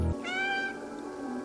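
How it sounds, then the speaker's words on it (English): A cat in the video game Stray lets out a single clear, drawn-out meow close up, over a quiet ambient background. "Did he just meow at me?"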